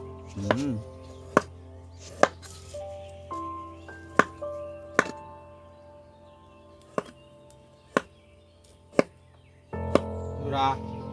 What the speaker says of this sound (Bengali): এবার চিকেনটা কেটে নেবো